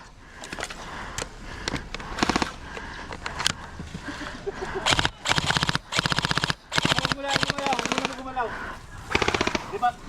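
Gel blasters fire in rapid, repeated automatic bursts during an airsoft-style game at an outdoor game site, loud and close with brief gaps between volleys, while players' voices are heard underneath.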